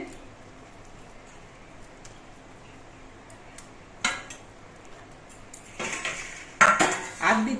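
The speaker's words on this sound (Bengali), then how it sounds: "এবার ভাজা মাছগুলো দিয়ে দিচ্ছে" Fried bhola fish pieces being added to simmering curry in a pot, quiet at first, then metal utensil clinks and scrapes against the pot growing louder and busier toward the end.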